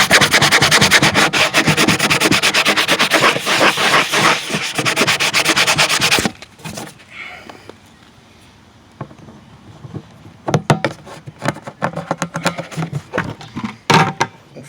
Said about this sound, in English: And then hit it with a sanding block.